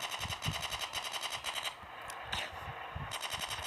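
Rapid gunfire rattles in GTA San Andreas, played on a mobile phone, bursts of automatic shots in fast repeating pops over a continuous game engine drone, fairly loud and steady through the short stretch.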